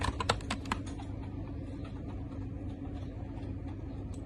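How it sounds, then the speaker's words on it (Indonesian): A short run of quick computer keyboard keystrokes at the start, a name being typed into a database, then the clicking thins out over a steady low hum, close and moderately quiet with no voices. "Maka di sini kita ketikkan rumah sakit."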